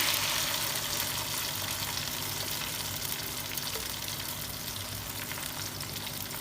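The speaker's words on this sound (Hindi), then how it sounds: "जो ग्रेवी हमने ब्लेंड की थी उसको हम ऐड कर देंगे इसमें।" Blended chicken gravy pours into hot oil in a pan for a dum chicken handi, giving a steady, close sizzling and frying hiss with watery bubbling that holds evenly throughout with no talk.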